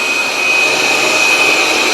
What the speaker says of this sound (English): this really is the best robot vacuum cleaner I have ever had.